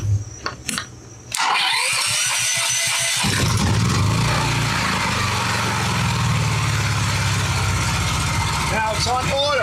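Honda EB 6500 generator that sat unused for years, starting with the choke pulled: a few brief cranking sputters, then the engine catches and settles into a loud, steady close-up running drone.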